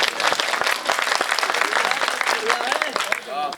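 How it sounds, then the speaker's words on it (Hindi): Loud applause from a crowd at a Hindi comic poetry show, dense clapping that begins strongly and thins toward the end as a voice starts speaking over it. "अगर मेरा बदला ठीक हो गया हो तो एक बार जोरदार तालियां बजा दो"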